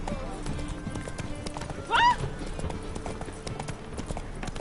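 Roach, the horse in the video game Witcher 3, gallops with a fast, steady clip-clop of hooves, and a short whinny or snort rises midway.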